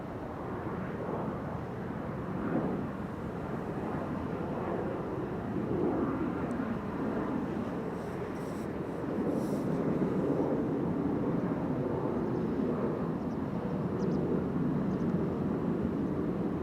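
A business jet takes off from runway 04 at Amsterdam Schiphol Airport, a steady low roar heard from a distance and held throughout without any talk.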